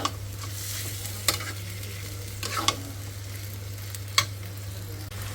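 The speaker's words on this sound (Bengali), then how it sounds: "কতক্ষণ ধরে কষাইতেছি এখনও পানি দেই নাই" Boiled tripe being sautéed in a wok gives a steady low sizzle, broken by a few sharp scrapes and clatters of the stirring spoon; close and fairly quiet, with no one speaking.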